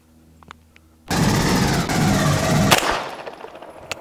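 A 9mm rifle fitted with a forced reset trigger and binary trigger, fired in one loud, rapid, continuous burst lasting under two seconds after a quiet start, then cut off abruptly as echoes fade.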